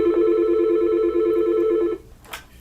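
An office desk phone rings in one long electronic trill for about two seconds, loud and close, triggered by a call from a wireless classroom microphone, then cuts off to near silence with a faint click.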